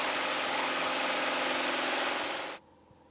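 A small aircraft engine after the pilot throttles back during climb, a steady droning hum with a rough mid-range texture that holds evenly, then drops sharply to a quieter background drone.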